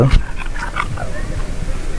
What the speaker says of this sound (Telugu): ఇది మనకి పిట్బుల్ డాగ్.